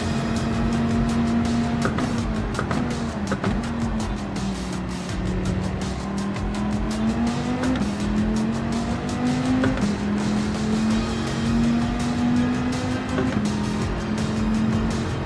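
Race cars in a Group 4 championship round of the GTRC racing game produce a steady, loud engine drone that rises and falls with gear changes, along with occasional tire squeal and no talking.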